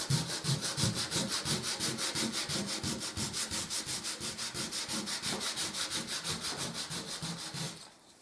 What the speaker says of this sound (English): give it a light sand